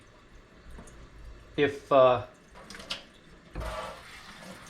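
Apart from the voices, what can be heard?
water rinsing hydro-dipped piece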